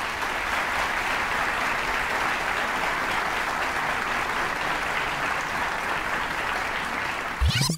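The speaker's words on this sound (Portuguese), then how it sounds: "Aplausos para Luiz Fernando Raio." Steady, sustained applause from a concert audience for a pianist after a Beethoven piano concerto movement at a music competition heat, an even, dense clapping wash lasting several seconds, with a brief thump at the very end.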